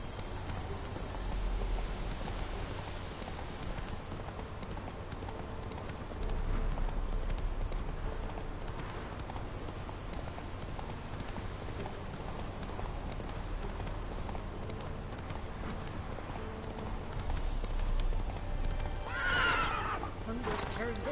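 Horse hooves clip-clop steadily at close range in The Witcher 3 video game, with a whinny and light ambient background, continuous across the clip.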